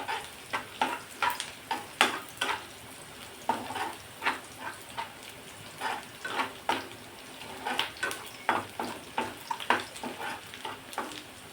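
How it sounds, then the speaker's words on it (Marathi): Onion sautés in oil with a pinch of salt, a constant sizzle broken by frequent rhythmic scraping strokes of a spatula stirring the pan, close and clear. "कांदा लवकर परतण्यासाठी थोडंसं मीठ टाकून घेऊ कांदा लवकर परतला जातो तेलावर"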